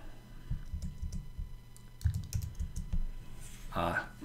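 Fingers type a formula on a computer keyboard in a Google Sheets spreadsheet, a brisk, uneven run of close key clicks and taps lasting a few seconds, with a louder burst of clatter near the end.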